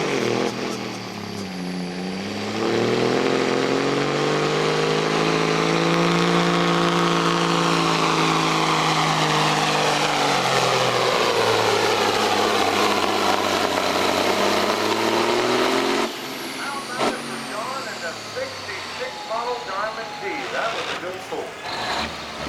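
A pulling truck's engine roars at a truck and tractor pull, climbing and falling in pitch through a long sustained loud run, then cutting off as an announcer speaks.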